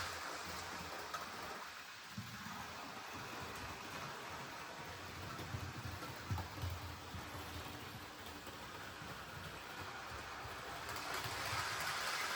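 A model railway train four to eight carriages long runs on its track in a continuous low rumbling rattle, fairly faint and steady throughout, with a slight rise in intensity toward the end.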